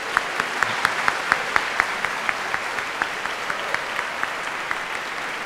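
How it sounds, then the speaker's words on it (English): An audience in a historic concert hall gives sustained applause for new graduates, a steady wash of clapping with a few sharp individual claps standing out near the listener. "would you please join me in a round of applause for our new graduates"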